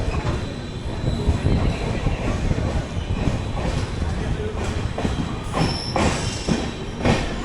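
Near the Hampi Express pulling into Annigeri station, a loud, steady rumble of rolling wheels and carriages continues, with a brief high squeal of wheels toward the end.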